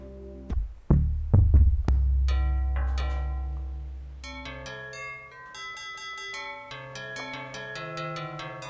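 Prism additive synth in Reaktor plays sustained, glassy pad notes after a few low thumps at the start, with layered chords shifting and ringing steadily to the end.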